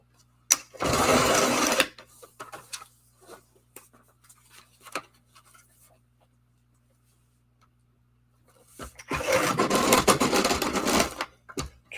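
A paper trimmer cuts card stock for a handmade card, two loud, close, grinding slices about a second long at the start and end, with faint small taps and rustles in between.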